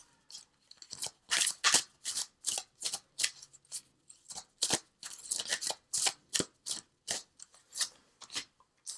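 Angel cards shuffled and pulled by hand, heard up close as a rapid run of crisp riffling bursts with brief pauses between them, loud and with no talking.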